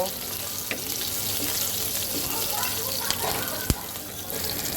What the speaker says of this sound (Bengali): কালো জিরাটা আমি দুই থেকে তিন মিনিট ভেজে নেব